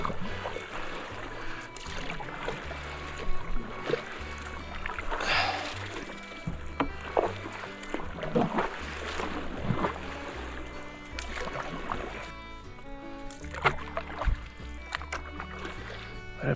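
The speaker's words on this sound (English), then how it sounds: "Scraping my paddle pretty good." A canoe paddle scrapes and splashes through shallow water on the Deschutes River in Oregon, with irregular close strokes and water noise over a steady low rumble.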